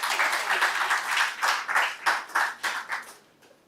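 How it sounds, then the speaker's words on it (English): Conference audience applause greets a speaker coming forward, a steady patter of many hands clapping at moderate distance that thins out and fades over a few seconds. "let's give him a round of applause as he comes."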